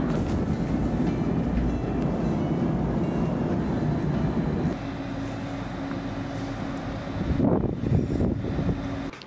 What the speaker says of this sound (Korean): 기어를 통해서 천천히 맞물리면서 산을 올라가는 산악열차입니다.